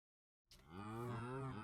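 A single drawn-out Minecraft cow moo from the game's survival mode, starting after a brief silence and holding loud and close with a rich, steady tone until the end.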